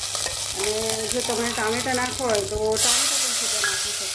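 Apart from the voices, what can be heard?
curry leaves sizzling in hot oil tempering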